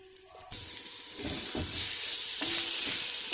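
Boiled potatoes dropped into a pan of fried spices, a close, building sizzle with scraping and stirring that settles into a steady hiss.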